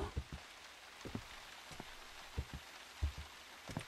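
Rainfall from the Silent Hill game: a faint, even wash of hiss broken by irregular soft thumps of drops, heard alone with no speech.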